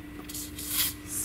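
Hair dye is sprayed at a toy salon in short hissing bursts, the strongest near the end, fairly faint and close, with a steady electrical hum underneath.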